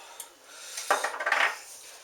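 No-knead Parker House roll dough ingredients being mixed in a bowl, heard as a brief burst of close scraping and rubbing strokes after a quiet start, with no voice.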